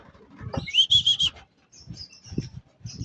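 Racing pigeons in a loft: soft wing flapping and fluttering with a few chirpy calls, moderately close, coming in bursts with short pauses between.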